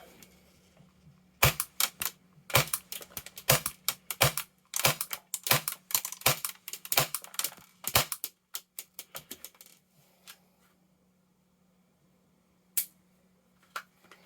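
An Action Army AAP01 Assassin gas airsoft pistol fires in sharp, rapid clicking bursts, close and loud, followed by scattered single shots that trail off into near silence with one last crack.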